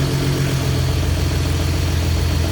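A Ford Mustang engine with a vacuum leak runs loud, giving a steady, close rumble with an airy hiss layered over it, with no voices.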